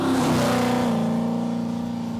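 A Pro Street car engine idles and rumbles loudly up close, a deep throbbing note with a slight rise in pitch at first before settling into a steady, heavy drone.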